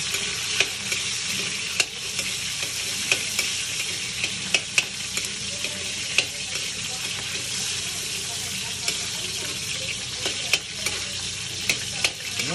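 Onion frying in a hot pan for chop suey after garlic, a steady loud sizzle throughout with occasional small clicks of a utensil stirring.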